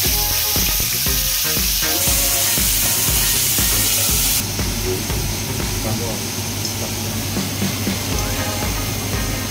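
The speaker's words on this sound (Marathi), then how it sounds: "हे खडे मसाले छान तेलात आपण परतून घेऊयात. आणि आता आपण कांदा ॲड करतो." Chopped onion dropped into hot oil with whole spices such as cardamom, frying on for a mushroom masala: a steady loud sizzle that jumps in intensity partway through, with clatter at the start and a voice talking over it.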